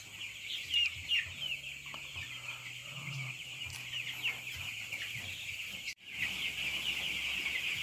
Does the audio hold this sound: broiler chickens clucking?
yes